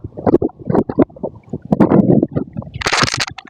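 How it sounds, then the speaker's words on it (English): Strong wind gusting across a disc golf course, buffeting the microphone in loud, uneven rumbling bursts with a brief rushing hiss near the end. "Very windy right now."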